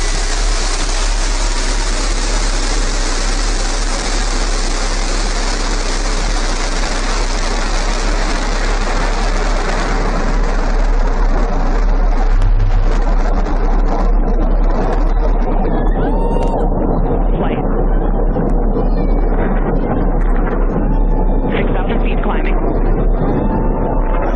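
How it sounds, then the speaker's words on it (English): A New Shepard rocket lifts off, its engines giving a loud, continuous broadband roar that holds for over twenty seconds and gradually dulls as the vehicle climbs, while a voice talks over it. "Liftoff. New Shepard has cleared the tower."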